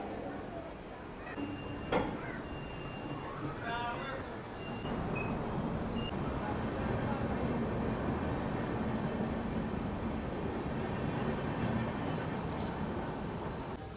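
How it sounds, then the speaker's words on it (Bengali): The Gour Express pulls out of a station platform bound for Malda Town. A steady, loud rumble of rolling wheels and carriages builds after a few seconds and holds, with faint voices and station noise in the background. "ট্রেন কিন্তু এখন ছেড়ে চলে যাচ্ছে মালদা টাউনের দিকে"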